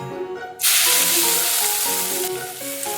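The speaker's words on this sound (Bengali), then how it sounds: "একটা বড় পেঁয়াজ আমি একটু একটু লাল করে ভেজে নিচ্ছি" Chopped onion hits hot oil with a sudden loud burst of sizzling that settles into a steady close frying hiss, with faint stirring clinks underneath.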